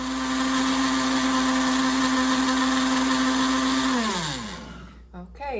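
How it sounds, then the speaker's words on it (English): A Black & Decker blender runs at a steady high-pitched motor whine while blending butter, then winds down and stops near the end. "let's get that lid on and we'll start blending. I've got a Black & Decker here"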